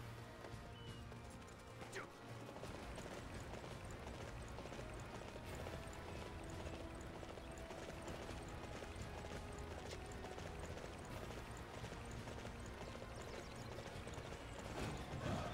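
In the Dynasty Warriors 9 video game, a horse's hooves clip-clop steadily under busy game sound effects and background music, fairly faint and continuous.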